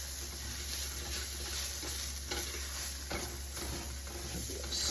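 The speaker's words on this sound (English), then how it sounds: "Incorporate that flour into our vegetables." Flour being stirred into sizzling browned zucchini and other vegetables in a pan, a soft steady sizzle under light scraping and stirring strokes, close and quiet with no voices.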